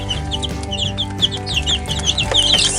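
Lavender Orpington and California White chickens cluck and coo softly on a ranch, a steady overlapping chatter of short calls close by, with no voices.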